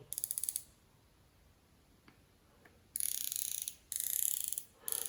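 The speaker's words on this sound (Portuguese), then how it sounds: "Estes cliques ouvem-se e sentem-se." Sharp, firm mechanical clicks from the turret of an Areseyes 3-9x40 rifle scope come in quick rattling bursts, with a couple of isolated single clicks in a quiet pause between.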